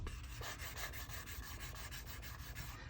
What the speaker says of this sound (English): This is a size 800 grit, and I'm just going to go back and forth over this a few times.